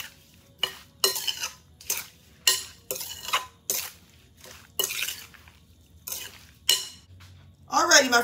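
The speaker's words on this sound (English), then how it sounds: "Give it a quick stir until it's well blended." Strawberries being stirred with sugar and lemon juice in a bowl for a cobbler: a series of wet, scraping utensil strokes about every half second, close and fairly loud, with a brief clatter at the end.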